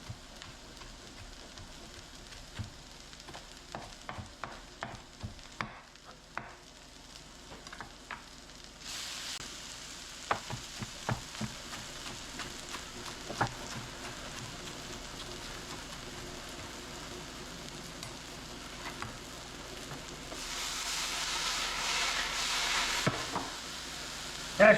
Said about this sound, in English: Let's let the hash browns cook down for a little while